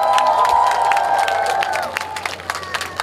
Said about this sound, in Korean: 여러분들 진짜 큰 함성 부탁드릴게요